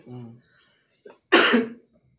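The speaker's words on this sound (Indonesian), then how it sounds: "Eta batuk." A single sharp cough bursts out right after some soft speech, loud and close, followed by quiet.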